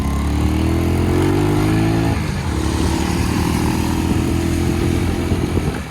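Motorcycles and cars idle and rev in a long traffic jam on a mountain road after rain, with a loud, close engine drone throughout and shifting revs.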